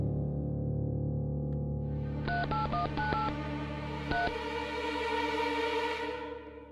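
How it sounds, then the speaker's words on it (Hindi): A telephone number is keyed in, a quick run of about six DTMF beeps followed by one more, heard over a steady hum and background tone; no talking. "उन्हें फोन लगाना चाहूंगा इलाहाबाद।"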